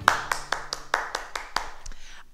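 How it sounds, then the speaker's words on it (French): A small class applauding after a martial arts session, a handful of close, distinct hand claps in an uneven rhythm that taper off within a couple of seconds, with faint voices in the background. "On s'applaudit, bravo!"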